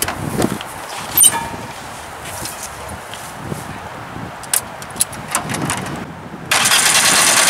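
A homemade tractor fitted with a Zhiguli car engine cranks with irregular bursts and clatter, then catches and settles into a loud, steady run near the end, with footsteps and knocks around it.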